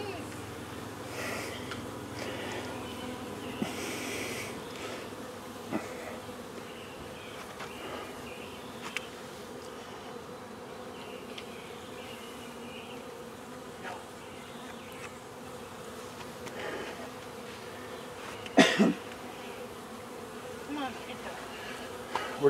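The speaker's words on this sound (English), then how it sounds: "Look at the bees! Look at the bees!" Honeybees buzzing around a beehive during small hive beetle control work, a low steady drone with individual bees passing close now and then, faint voices and a few handling knocks in the background.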